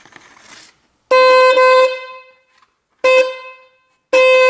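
A BMW car horn, the high-pitched horn of a two-horn system on a model from 2000 to 2022, blares in three loud honks: one long blast, then two shorter ones with clean gaps of silence between.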